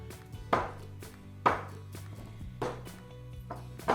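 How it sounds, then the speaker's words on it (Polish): A knife chops onions on a cutting board in four distinct, fairly slow strokes, each a sharp close thunk, quiet between cuts, with no talking. "Kroję cztery cebule."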